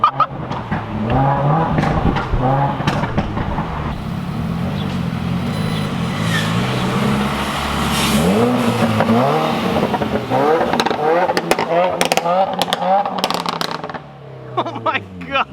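A 2018 Subaru WRX with a Nameless axle-back exhaust and no tune revving hard, close and loud, its rising engine note running under excited shouting voices, with crackles near the end as the revs drop.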